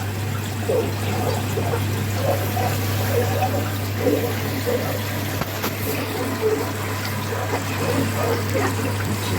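A Beko washing machine fills with water, a steady low mechanical hum under a soft, continuous trickle and pour.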